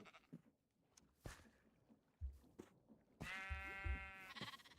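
A Minecraft sheep bleats a couple of times, close and clear, with scattered soft game sounds and clicks between the calls.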